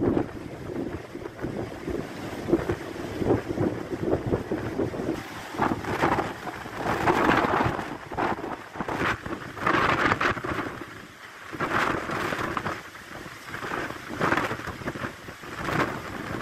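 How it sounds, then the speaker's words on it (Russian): Strong storm wind at Tatar Bay on the Kazantip coast, roaring in continuous gusts that buffet the microphone loudly throughout, with surges and brief lulls and no voices. "Целые сутки ветер дул без перерыва"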